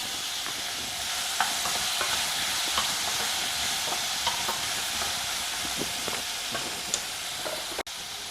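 Cooked, drained chickpeas and a pinch of hing stirred in a hot pan, giving a steady close sizzle with light scraping and stirring clicks throughout.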